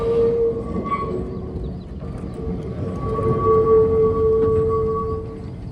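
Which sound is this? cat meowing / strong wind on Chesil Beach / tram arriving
tram arriving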